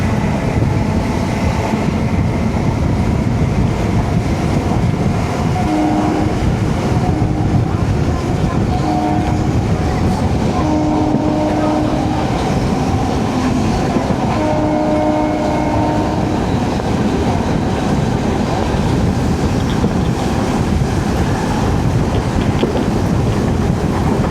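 A 16-car Southern Railway MEMU electric multiple unit train rumbles along steadily with a low droning motor and rolling noise, wind buffeting the microphone, and faint whining tones rising and falling.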